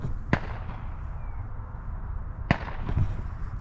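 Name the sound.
distant gunshots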